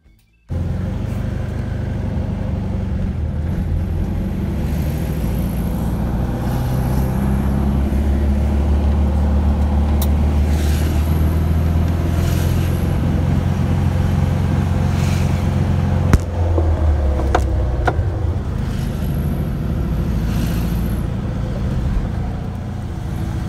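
A VW Sunbug's engine runs steadily throughout, a loud low rumble with a few clicks and clunks partway through.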